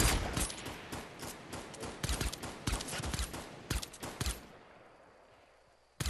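Rapid bursts of gunfire in an online shooter game, dense repeated shots in quick volleys for several seconds before trailing off, then one last abrupt shot.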